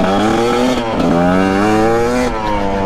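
A GPX TSE250R motorcycle engine pulls away in first gear from very low revs, a loud, close, steady droning note that climbs slightly in pitch, with a brief dip in the middle before holding on.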